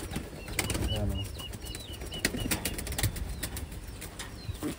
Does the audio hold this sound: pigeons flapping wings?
yes